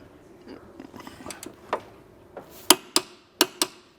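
A torque wrench tightens a front control arm bolt on a 1999-2005 Porsche 996 911 Carrera to 89 foot-pounds. Soft ratcheting ticks are followed by four sharp, close metallic clicks.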